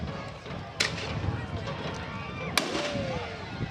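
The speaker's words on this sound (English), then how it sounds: "I heard the firecracker from the north" A firecracker bursts outdoors at a high school football game, two sharp cracks sounding at a distance through crowd noise and chatter.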